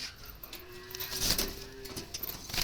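Soft cooing from wild Jalali pigeons kept in a cage comes from close by, a couple of low throaty calls over faint background rustle.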